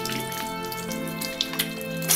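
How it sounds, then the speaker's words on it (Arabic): Tap water running into a sink while hands are washed with soap, a short steady splashing stream with a couple of brief drips, close by. "وبعد ما نخلص نفتح المي"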